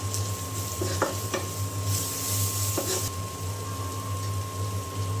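Spices and deep-browned fried onions sizzle in a pan, a constant frying hiss with occasional scraping stir strokes close by.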